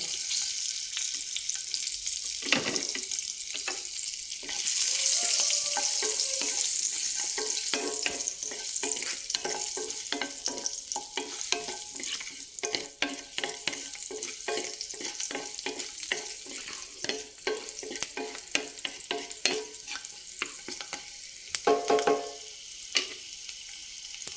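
Garlic and black pepper sizzle steadily in a hot pan for a raw banana and moong dal curry, with loud, continuous frying close by, scattered stirring clicks, and no voices.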